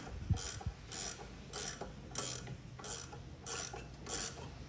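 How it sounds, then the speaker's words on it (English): A wrench turning a nut on a valve spring compressor, squeezing LS engine valve springs, gives a series of about seven evenly spaced ratcheting clicks, close and fairly loud, with no talking. "You just need something to turn this nut. And this will compress these springs, as you see it's doing here."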